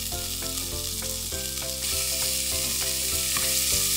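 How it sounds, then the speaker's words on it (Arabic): Sliced onion and colorful bell peppers sizzle and fry steadily in a hot pan, with rhythmic clatter of a utensil tossing them together; no voices. "هبتدي انزل بشرايح البصل والفلفل الالوان، هديهم تقليبة مع بعض"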